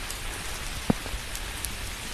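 Steady rain falls outdoors at Honmoku hilltop park, a dense even hiss of drops on surfaces with a single louder knock near the middle and no voices.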